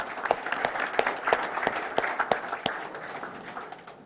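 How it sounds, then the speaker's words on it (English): A small audience at a live startup challenge event claps, distinct individual claps forming a light, uneven patter that fades over a few seconds. "A round of applause"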